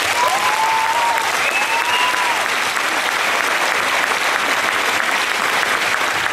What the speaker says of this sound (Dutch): En voor hen wil ik nou ook een keer gewoon een applaus hebben.